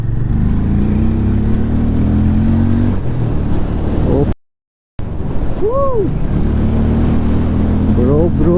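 A Hero Mavrick 440 motorcycle accelerates in traffic, its engine note climbing in pitch under strong, constant wind rush. The sound cuts out for a moment, then returns with more rising revs, loud and close to the rider.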